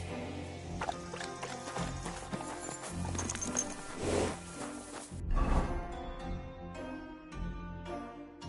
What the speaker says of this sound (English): There now. What a beautiful horse.